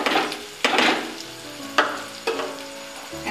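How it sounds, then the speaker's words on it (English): Tomato puree hits a frying onion mixture for chicken tikka masala, sending out a few loud, sharp sizzling bursts that fade between hits, close up with no voices. "Now I'm going to add my tomato puree into the onion mixture"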